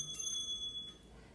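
A single bright bell ding rings out clearly, with a sustained high tone that lingers briefly before fading over a quiet background.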